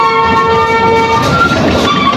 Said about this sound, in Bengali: ট্রেন দিয়ে একটা পাক দিলাম